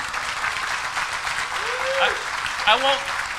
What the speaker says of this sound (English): I just want to say for Kelly's service, I just want to give a round of applause to all Vietnam veterans as well during this time.